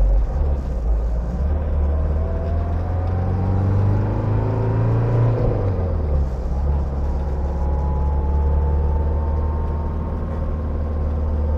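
A 1979 Mercedes W123 240D mechanical diesel engine idles with a steady low rumble and whir, then winds down partway through and hums on quietly, with no talk over it.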